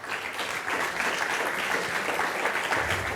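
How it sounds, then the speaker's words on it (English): Audience applause at the KHIPU 2023 AI conference, a dense, even wash of many hands clapping, sustained and moderately loud for the whole stretch. "So please, a big hands of applause for them."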